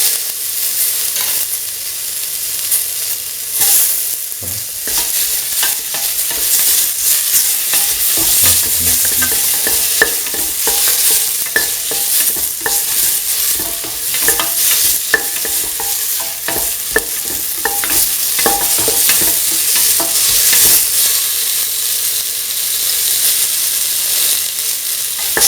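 Tomato pieces frying in a pan for a lentil winter melon coconut stew, with a steady close sizzle and repeated scraping stirs of a spoon throughout, no voices.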